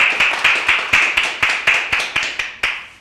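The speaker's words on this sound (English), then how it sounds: "please, give her a round of applause" Round of applause at a youth leadership program session, coming through as a small, sparse group of sharp, evenly spaced claps close by, roughly a dozen in a few seconds.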